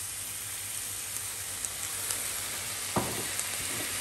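Prince beans and pork cubes sizzle steadily in a hot wok for hakka noodles, a continuous close frying hiss with a few light clinks and one sharper knock of a utensil against the pan.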